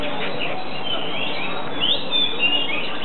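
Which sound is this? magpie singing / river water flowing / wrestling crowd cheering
magpie singing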